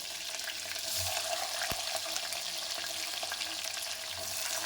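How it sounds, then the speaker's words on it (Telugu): Onions fry in a pan for goat leg soup, making a constant, fairly quiet crackling sizzle with a single sharp clink of a utensil partway through. "ఆనియన్ వేసుకొని ఆనియన్ గోల్డెన్ కలర్ వచ్చే వరకు ఫ్రై చేసుకుందాం"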